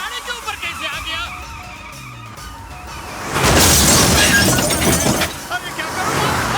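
A hut comes crashing down onto a car in a film scene: after a quieter, busy stretch, a sudden loud smash bursts in and breaks into a sustained, rough crashing clatter.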